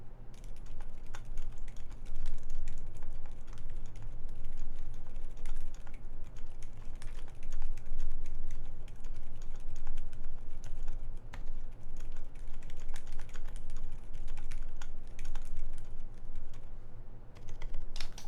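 Continuous typing on an HKB Pro mechanical keyboard, a dense, steady stream of close keystroke clicks running for the whole stretch with no talk over it.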